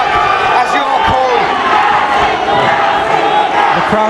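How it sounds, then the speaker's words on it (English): Boxing crowd erupting in a loud continuous roar during the 10th round of an English super lightweight title fight, with thuds of punches in the mix and a commentator talking over it. "The crowd is erupting."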